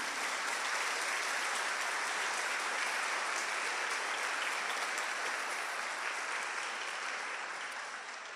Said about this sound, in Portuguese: Dá um aplauso lindo para o Senhor